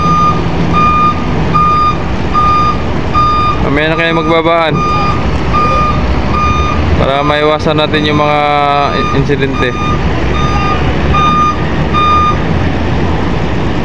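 A truck's reversing alarm beeps in a steady, evenly spaced pattern as the vehicle drives off a passenger ship bound for Marinduque, Romblon or Masbate. Loud engine and harbor noise run underneath, and people talk over it.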